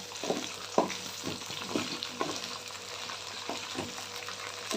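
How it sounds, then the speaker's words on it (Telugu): Okra sizzles steadily in a pan for a masala curry, with a series of soft stirring scrapes every half second or so over the continuous fry; no one speaks. "ఫస్ట్ ఆఫ్ ఆల్ బెండకాయల్ని మంచిగా వేగనివ్వాలి"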